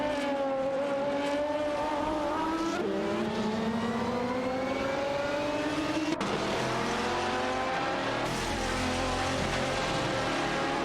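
Race cars in an AI-driven racing video game lap a track, engine tones rising and falling through gear changes, several cars overlapping in a continuous loud drone with a brief sharp transient midway.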